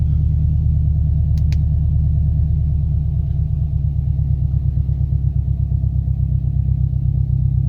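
A car engine idling with its idle speed being adjusted after loose battery terminal problems, a loud, steady low rumble close by with a slight rise and fall in pitch and no speech.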